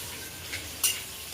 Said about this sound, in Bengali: এতে আমি পেঁয়াজটা লাল করে ভেজে নেব।